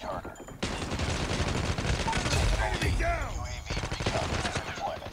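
AK117 Melon rifle firing in Call of Duty Mobile, a loud rapid automatic burst with sustained fire broken by brief pauses, game effects mixed in.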